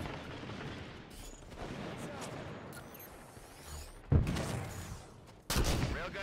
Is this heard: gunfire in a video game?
yes